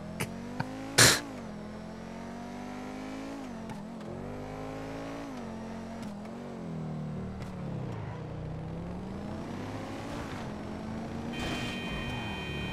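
A car engine revs in a driving video game, a loud, sustained motor drone rising and falling in pitch with a sharp knock near the start and no talking.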